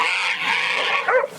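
Hunting dog bays and yelps continuously at a hog, loud and close, with a brief rise of sharper yips near the end and no talk over it.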